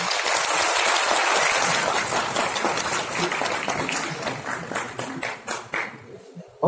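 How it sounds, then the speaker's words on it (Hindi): Audience at a DXN training meeting bursts into sustained applause, dense clapping that stays loud for several seconds and then thins out toward the end. "एक बार जोरदार ताली बजाएं"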